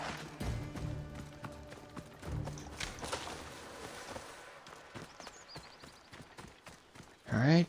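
Horse galloping in the video game Assassin's Creed Odyssey, rapid clip-clop hoofbeats at moderate distance mixed with game ambience and voices talking.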